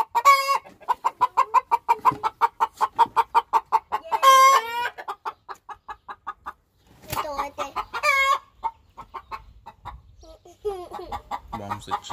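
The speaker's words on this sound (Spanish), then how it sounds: "Aquí ya tenemos unas gallinas que ya están echándose." Hens settling to lay cluck in rapid, repeated bursts close by, with a few louder squawks breaking through; no talking.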